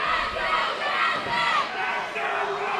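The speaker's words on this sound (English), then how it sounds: "the crowd is chanting" A wrestling crowd at a Mission Pro Wrestling championship bout between La Rosa Negra and Jazmin Allure chants together, a rhythmic, massed roar of many voices in a few surging phrases.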